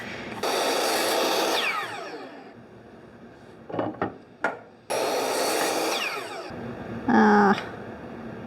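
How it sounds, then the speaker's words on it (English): A miter saw bites into wood in two long, loud cuts, separated by knocks and handling noises in a home hallway closet build, with a short squeal near the end. "So I'm going to keep using the miter saw to just do this."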